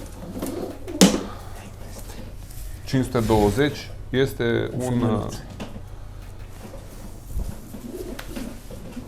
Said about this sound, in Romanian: Și ultimul porumbel pe care vi-l arătăm,